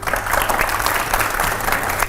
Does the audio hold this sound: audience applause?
yes